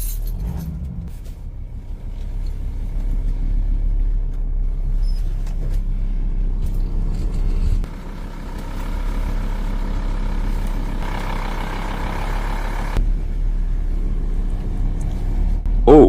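Car engine rumbling steadily while driving up onto a homemade welded repair ramp, a low continuous drone with a brief dip midway and a faint metallic clank at the end, no talking.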